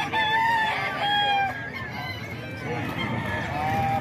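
Roosters and chickens of a rooster dealer's flock at Bocaue, heard as several close crows and clucks overlapping in a busy, moderately loud chorus, with faint background murmur.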